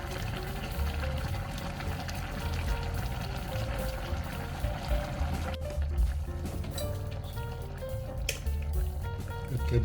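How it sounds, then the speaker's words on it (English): A pot of braised kimchi stew bubbles and simmers continuously, with soft wet popping and gurgling throughout, steady and close, with no voices. "we're gonna let it boil for a while so the soup to get thicker"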